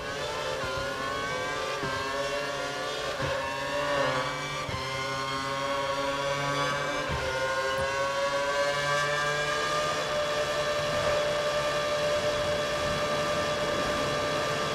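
F1 race car in F1 2012 at Sakhir, Bahrain: a high-pitched engine screaming steadily at high revs, pitch shifting through gear changes and climbing, loud and continuous, with other cars audible nearby.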